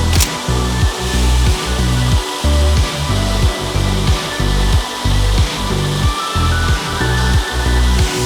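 Waterfall rushing down, a steady loud broadband roar of falling water heard close, with rhythmic low thumping buffets from wind or spray on the microphone and no talk.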